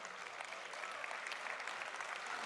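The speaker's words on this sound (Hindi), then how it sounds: "दाद में आप तालियां भी बजा सकते हैं" Audience applause at a Pakistan literature festival poetry session, a steady, dense wash of many hands clapping that holds evenly and fairly distant throughout.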